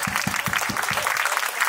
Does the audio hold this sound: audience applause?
yes